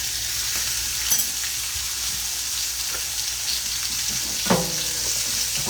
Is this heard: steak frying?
yes